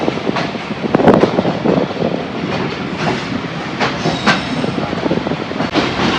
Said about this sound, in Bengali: এই ট্রেনটি এখন টঙ্গী থেকে ছেড়ে জয়দেবপুর পর্যন্ত যাবে